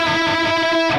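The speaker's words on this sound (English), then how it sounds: "The next technique is something called unison bends, which sounds like this." Distorted electric guitar playing a unison bend, one string pushed up to match a fretted note beside it, so two close pitches merge into a loud, sustained, slightly wavering tone for about a second.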